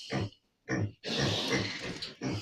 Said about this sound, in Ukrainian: Ця свинка у нас у хліві.